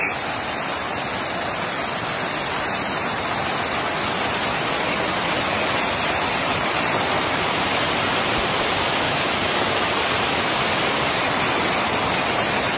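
Water gushes loudly and continuously out of a salt mountain in the desert, making a dense, steady roar like a waterfall with no pauses for the whole stretch.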